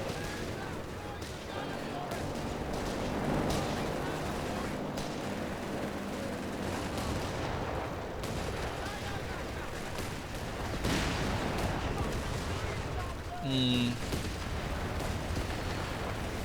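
Battle sounds from Company of Heroes 3: machine-gun bursts and artillery booms rumble continuously under a commentator's voice, with the fire and explosions fairly distant.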